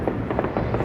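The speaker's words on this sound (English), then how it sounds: "we were lucky to be able to watch the fireworks right from our hotel" Fourth of July fireworks burst beside a hotel near the Truckee, California train station, a quick run of muffled booms and crackles in under a second.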